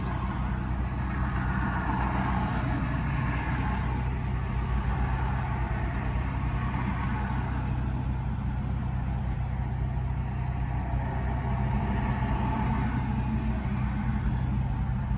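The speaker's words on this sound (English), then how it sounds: "Traffic, traffic." Road traffic, a continuous engine drone and tire roar of vehicles passing at steady volume, with surges as cars go by, heard without any talking.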